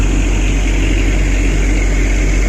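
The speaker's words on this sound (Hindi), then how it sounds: "तो ये है डीजल इंजन, टॉय ट्रेन ही है लेकिन डीजल इंजन अभी चल रहा है" The diesel engine of the Shimla toy train runs at the station, a loud, close, unbroken low drone with a steady hum and no pauses.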